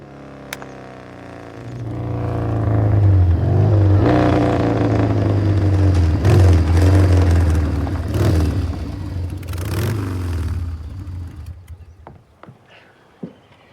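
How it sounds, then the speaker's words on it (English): A motorcycle engine revs up from idle, growls loudly for several seconds with rising and falling throttle, then fades away as the bike rides off, leaving near silence. "Cool motorcycle."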